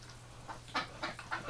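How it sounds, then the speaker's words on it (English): A few short, hoarse quacks from female ducks in a winter setting, spaced roughly evenly apart, fairly faint against a low steady hum. "They're watching me and quacking like crazy here."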